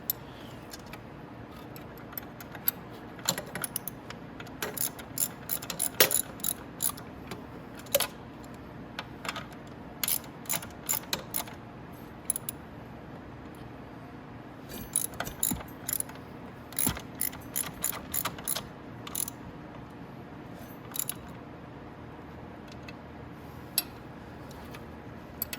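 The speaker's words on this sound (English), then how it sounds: "So we'll go ahead and put our socket on righty-tighty." A socket ratchet clicks in quick bursts while tightening bolts on the motor of a Venom E-Racer 1000W kids electric ATV, close and crisp, with short pauses between strokes over a low background hum.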